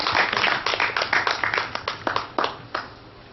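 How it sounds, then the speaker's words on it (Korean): An audience at a poetry concert lecture claps together in a burst of applause, many hands patting in a dense, uneven patter that starts strong and thins out into scattered final claps. "우리 함께 박수 한번 쳐볼까요?"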